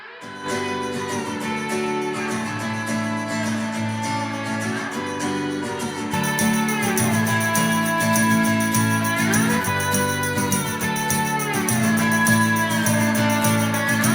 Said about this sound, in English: It's just like a reverb that's being run through tape